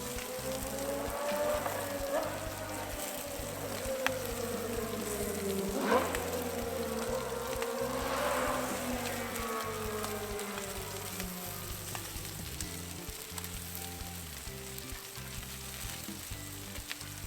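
Marinated sous vide pork belly crisps on a hot Blackstone griddle with a continuous close sizzle and crackle, plus a few brief scrapes partway through, and no one speaks.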